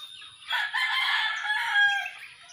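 A rooster crows once among chickens at a home in the Philippines, a loud, clear, drawn-out call lasting about two seconds, close by and alone.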